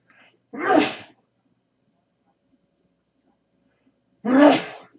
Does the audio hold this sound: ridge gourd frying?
no